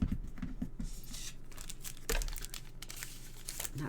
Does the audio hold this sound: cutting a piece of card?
yes